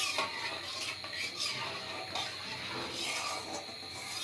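A spoon scrapes and clinks against a pot as agar agar powder mixture is stirred continuously, with soft hissing beneath the steady, uneven metallic scraping.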